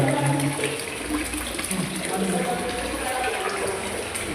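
A hospital bathroom tap runs with a steady rushing stream of water, close and fairly loud, with people talking over it throughout.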